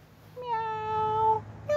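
A cat meows in a long, drawn-out, clear call close by, followed by the start of a second meow, with no talk over it.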